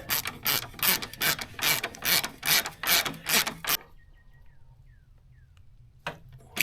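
Ratchet tightening the exhaust nuts on a Yamaha TW200 motorcycle with a graphite gasket: a rapid series of close, loud clicking bursts for about four seconds, then quiet with a faint click near the end.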